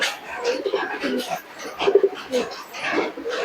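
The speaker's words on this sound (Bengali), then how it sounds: "অসাধারণ খুবই সুন্দর কোয়ালিটির কবুতর" Lotan pigeons give repeated throaty coos in short bursts, close by, at a pigeon sale while people talk over them.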